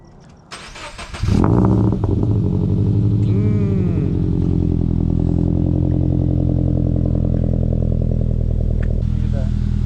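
A Subaru BRZ running on E85 starts with a brief starter crank, fires up and settles into a loud, steady, close idle that rumbles for several seconds.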